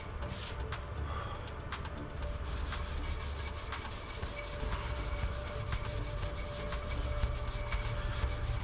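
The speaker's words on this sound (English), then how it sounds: "I'm not even done sanding here yet" Steady, gritty rasping of sandpaper worked back and forth over the repaired, dent-filled top body panel of a 1949 Jeep Willys during bodywork before repriming, continuous and close with no talking.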